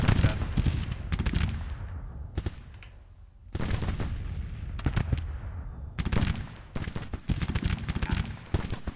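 Bursts of gunfire and artillery booms in the Civil War strategy game Grand Tactician, dense rolling volleys with sharp cracks, briefly easing in the middle before heavy firing resumes, loud and close.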